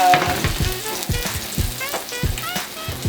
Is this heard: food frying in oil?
yes